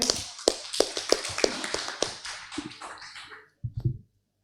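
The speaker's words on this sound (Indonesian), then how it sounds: "Kita berikan aplaus yang meriah." A conference audience at a dialogue event in Bangka breaks into scattered applause, sharp individual claps that thin out and stop, followed by a few last hand claps.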